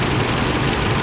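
A car engine idles steadily in a repair shop, a continuous low rumble that stays constant and fairly close throughout, with no voices over it.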